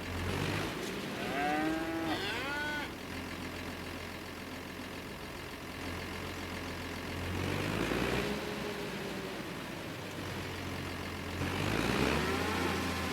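Cattle mooing on a farm in Farming Simulator 25, several drawn-out, rising moos over a steady low engine hum, with a second group of calls later in the stretch.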